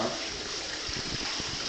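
Water flows into a chamber of a recirculating aquaculture fish farm as a steady, close rushing splash, with low gurgling pulses breaking through near the end.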